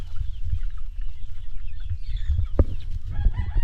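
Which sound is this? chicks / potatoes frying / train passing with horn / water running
chicks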